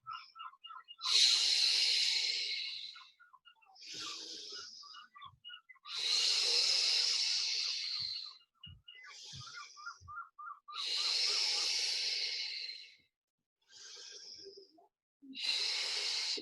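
Slow, deliberate breathing during a Pilates exercise, heard close as long airy inhales and exhales in a steady rhythm with short pauses between breaths, and no talking.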